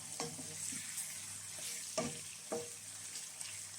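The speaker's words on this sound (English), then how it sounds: "still fry it till it's nice and cooked" Prawns frying in a pan for jollof rice, a steady close sizzle with a few stirring scrapes and soft clatters of a utensil against the pan, no talk.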